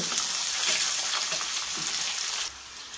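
Onions frying in oil in a wok for a prawn mash dish give a steady, close, dense sizzle with faint stirring scrapes; it drops slightly quieter near the end, with no talking.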